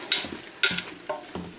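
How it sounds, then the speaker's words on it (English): Quorn mince Bolognese sauce stirred with a spoon in a pan, a few soft scraping strokes over a faint sizzle, quiet and close. "And just stir that in."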